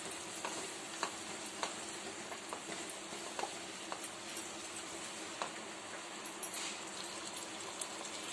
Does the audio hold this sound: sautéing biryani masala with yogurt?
yes